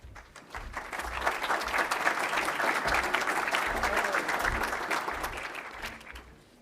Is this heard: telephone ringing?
no